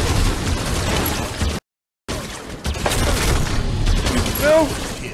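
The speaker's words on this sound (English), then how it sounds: "Incoming grenade!" A grenade explosion in an online shooter game: a heavy burst and boom with brief full silence partway through, mixed with shouted game talk and chaotic combat noise.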